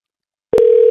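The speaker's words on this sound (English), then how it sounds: "I'm going to call that line with my phone." A steady telephone ringback tone starts abruptly after a moment of silence when a phone dials a contact center line, then holds at an even pitch, clear and close.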